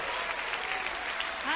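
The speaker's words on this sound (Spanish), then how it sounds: "aplauso al Rey." A church congregation claps together in a steady, dense burst of applause at a Christian worship service, a brief wash of hand claps with a voice rising faintly at the end.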